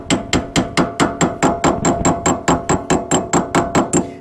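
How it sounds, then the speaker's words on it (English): A hammer taps a cap onto the rear wheel hub of a 2001-2005 Honda Civic with about eighteen steady, evenly spaced light metallic strikes, close and clear, with no talking. "using a hammer, carefully, paying attention you don't hit any of these threads, reattach the cap."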